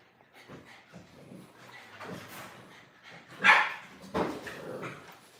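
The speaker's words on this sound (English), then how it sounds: "These dogs are surprising me the way they moving in this house." American bully dogs inside a house give a couple of short, close barks and yips amid scuffling and movement noises, fairly quiet overall with no talking.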